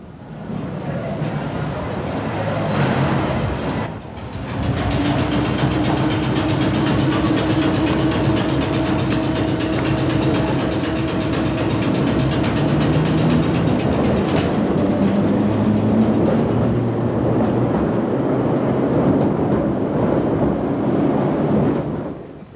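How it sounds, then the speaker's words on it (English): An old former London Underground tube train runs on the Isle of Wight railway, a loud sustained rumble with rising and falling motor whine and steady wheel noise rolling past near the listener. "old tube trains have been running on the Isle of Wight since steam days"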